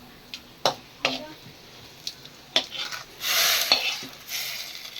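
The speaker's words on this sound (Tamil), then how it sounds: "இப்போ தாளிச்சுக்கலாம்." Spices being tempered in a pan for idli sambar give a short sizzle and hiss, mixed with clinks and scrapes of utensils against metal cookware, close and moderately loud, with someone talking over it.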